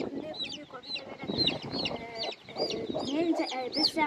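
Backyard chickens cluck and chatter close by in a busy, overlapping flock, with some sharper calls rising above the steady clucking.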